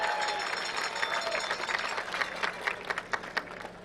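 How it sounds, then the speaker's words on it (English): Crowd applause from spectators at a college football game honoring high school marching bands, a wash of clapping that swells and continues steadily for several seconds in a large open stadium. "How about a nice round of applause for these outstanding young men and women?"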